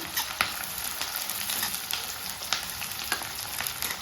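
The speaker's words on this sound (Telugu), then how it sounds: "పచ్చిమిర్చి వేస్తున్నానండి, తగినంత కరివేపాకు వేసి వేసుకుందాము." Green chillies and curry leaves frying in oil for a brinjal potato curry, a constant crackling sizzle with scattered sharp pops, close and steady, no voices.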